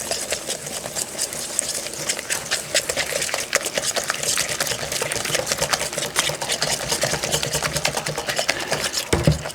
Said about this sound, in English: all you're gonna do is whisk it together and put it in the pan